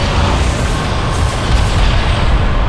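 Heavy arm cannons from Bulletstorm pound away in a dense, continuous barrage of booming blasts, loud and close, with no voices over it.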